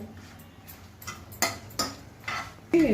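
Dried red chillies roast and get stirred in a pan with a spoon, giving irregular metallic clinks and scrapes, a few sharper taps, and a faint crackle. The sounds are close and moderately quiet, with no talking.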